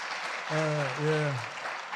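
A church congregation applauds during a deaconess installation ceremony at a Presbyterian church, with soft, steady clapping running underneath a nearby voice that speaks briefly in the middle.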